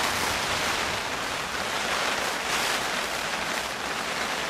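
Heavy rain and gale-force wind lash a gravel carp-fishing pit in Essex, a dense, constant broadband roar with no let-up.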